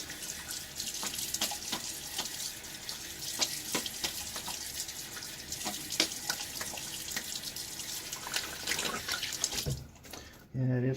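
Tap water runs steadily from a bathroom faucet into a sink while hands are rinsed during a shave, a continuous close splashing hiss that cuts off near the end.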